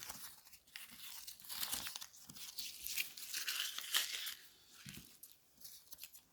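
Paper is handled and torn in a quiet, close run of crinkling, rustling and ripping, in irregular bursts that swell and fade, with no voices.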